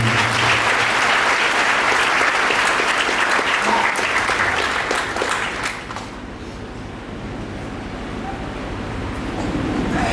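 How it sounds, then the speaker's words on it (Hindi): A large audience claps steadily and loudly at a husband-and-wife meeting talk, sustained dense applause that thins and fades halfway through, leaving a softer murmur of lingering claps. "ताली बजाकर प्रभु को धन्यवाद।"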